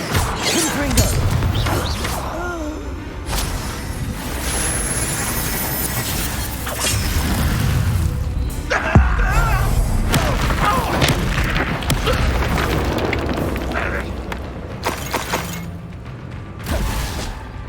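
Confringo fire spells from Hogwarts Legacy erupt in repeated booming blasts and crashes amid clattering, creaking combat mechanisms, loud and close, with spoken incantations between the impacts.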